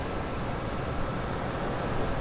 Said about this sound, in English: All I can hear is the radiator fan.